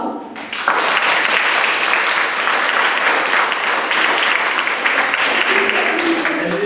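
A crowd bursts into loud, dense applause welcoming a guest at an awards event, erupting suddenly after a quieter moment and then holding a steady roar of clapping to the end.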